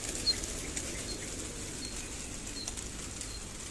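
Pigeons burst out of a netted loft as its gate opens, a steady rush of flapping wings that stays moderately close and continuous with no voices over it.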